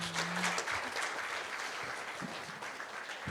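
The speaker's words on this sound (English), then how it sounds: "Let's give a round of applause to our sponsors because they made this happen." Steady applause from an audience, dense clapping filling the whole stretch without pause.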